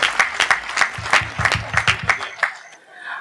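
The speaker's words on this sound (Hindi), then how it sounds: "बहुत जोरदार तालियां बजाकर" Loud, steady applause from an audience at a comedy poetry show, a dense patter of many hands clapping close by before tapering off near the end.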